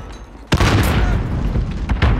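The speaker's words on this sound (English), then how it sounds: "Grenade out!" A grenade blows up in a video game with a loud, close boom after a brief quiet lead-in, followed by a rumbling tail and a smaller sharp pop near the end.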